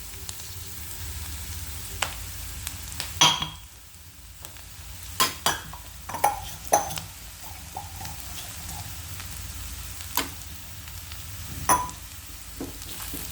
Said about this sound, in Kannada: ರವೆಯಲ್ಲಿ ಮಾತ್ರ ಚೆನ್ನಾಗಿ ಹುರ್ಕೋಬೇಕು